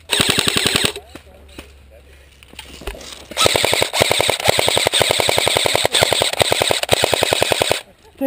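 An airsoft gun fires long rapid bursts of sharp, evenly spaced clicking shots close to the mic at an outdoor game, with a brief lull of scuffling in between and people's voices briefly mixed in.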